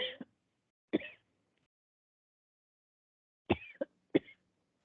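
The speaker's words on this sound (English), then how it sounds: "I'm also sorry for the cough" A person coughs in short bursts, one at the start, another about a second in, then a tight cluster of three near the end, close and dry with silence between.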